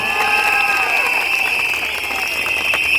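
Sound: crowd applauding at a political rally

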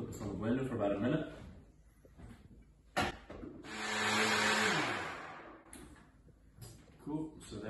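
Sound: blender blending chlorella turmeric drink

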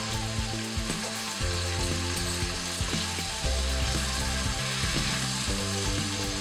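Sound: onion garlic paste frying and sizzling in pan

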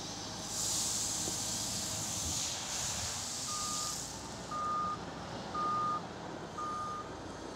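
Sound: Volvo wheel loader operating, loading a truck

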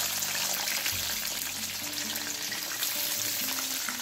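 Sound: deep frying red, yellow and orange bell peppers

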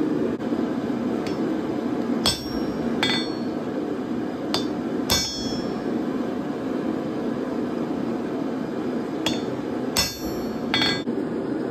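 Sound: hammer striking a small ball fuller on hot steel

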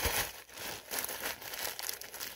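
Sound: crumbling bread in a paper bag

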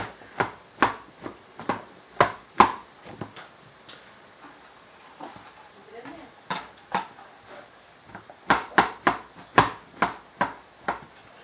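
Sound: chopping mushrooms with a knife

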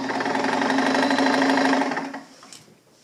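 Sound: sewing machine running as the hand wheel turns

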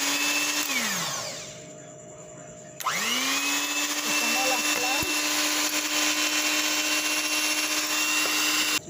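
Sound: electric mixer beating egg whites

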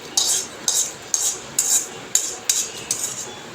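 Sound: roasted dried red chillies being moved into a bowl

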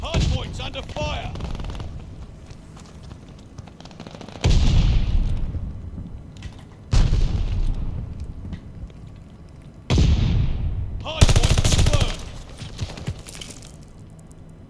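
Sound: gunfire in video game Call of Duty Vanguard

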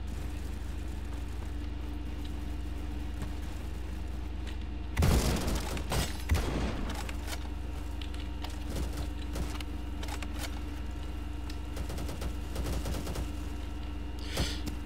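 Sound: bullpup sniper rifle shots in the video game Bad Business

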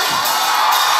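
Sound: concert audience screaming and cheering

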